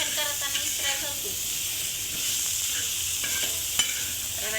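Amaranth leaves stir-fry in a pan with a steady, hissing sizzle, broken by occasional scraping stirs and soft clinks throughout.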